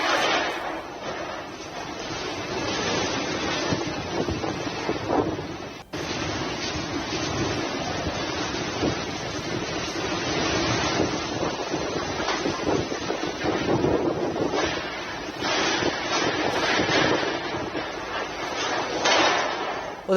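Cyclone Yaas lashes the coast near Paradip, Odisha, with strong wind buffeting the microphone in a constant roar and high sea waves crashing beneath it, loud and unbroken throughout.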